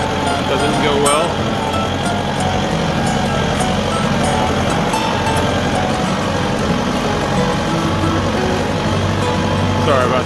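A Massey Ferguson 2705e tractor drives with a loaded bucket during dirt work, its engine a loud, close, steady drone that holds without a break.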